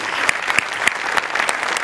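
Brisk applause from a comedy show audience, a short burst of dense clapping with a few sharper claps standing out, no talking over it.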